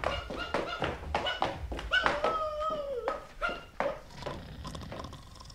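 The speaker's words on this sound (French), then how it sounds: "Milou hurle à la mort devant sa porte." A dog in an audiobook scene yelps and whines before a door, a run of close, rapid, pitched cries broken by tapping knocks, with rising and falling wails in the middle.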